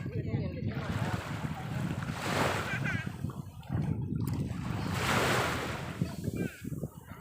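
Waves wash onto the sand at Hat Sai Kaew beach in Sattahip, Thailand, in broad swelling rushes with steady wind noise across the microphone, and faint voices of people on the shore underneath.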